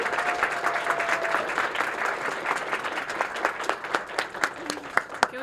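Steady applause from a crowd at a first-time homebuyers celebration, dense clapping that carries on throughout with a few sharper claps standing out near the end.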